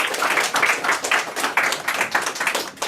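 A round of applause from an audience at an evening poetry reading, close and lively with dense overlapping claps that swell and dip, no speech.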